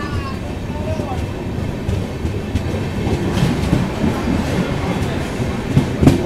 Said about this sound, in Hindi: overtaking royal Seema express Nizamabad Tirupati eight tandoor